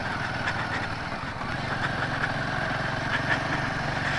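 A fairly heavy motorbike runs at a steady, low, throbbing pitch while going off-road on the way to Khardung La. The engine sits close and constant, with a faint rattle over the top and no voices.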